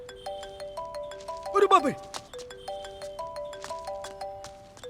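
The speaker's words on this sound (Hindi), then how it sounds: "वाह, क्या रिंगटोन लगाई है तूने?" A melodic phone ringtone plays repeated tonal phrases in a quick, steady rhythm, with a man's excited exclamation cutting in briefly near the start before the tune carries on alone.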